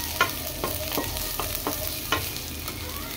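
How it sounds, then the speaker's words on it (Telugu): Onions with curry leaves and coriander are stirred in a pan over a steady sizzle, with a run of light, regular scraping taps from a spoon or spatula, close and even, with no talking. "కొత్తిమీర కూడా వేసి బాగా కలుపుకోండి."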